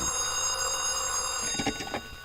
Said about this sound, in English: The time when he picks up his office phone and calls Anthony Servo at the Dixon Hotel